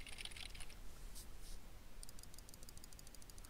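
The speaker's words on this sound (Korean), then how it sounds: "먼저 키보드와 마우스 버튼 소리가 어느 정도로 들어오는지 확인하겠습니다." Faint, scattered clicks of a keyboard and mouse buttons, picked up by a Corsair Virtuoso Pro headset microphone, a few sharp taps in small clusters over a quiet background hiss.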